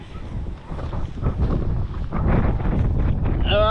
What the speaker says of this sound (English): it's going to get a bit windy now